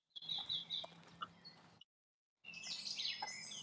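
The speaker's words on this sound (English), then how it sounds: "Yes, I can hear the birds around you." Birds call and chirp in a humid forest, bright repeated tweets and a clucking fowl-like call close by, broken by a brief dropout of silence before more overlapping birdsong.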